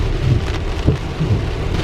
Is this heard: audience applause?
no